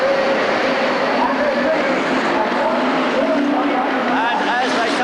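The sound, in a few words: rallycross cars pulling away from the start line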